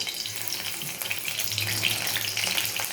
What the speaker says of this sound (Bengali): প্রথমে আমি কড়াতে তেল দিয়ে দিয়েছি। এবার এর সাথে তেজপাতা,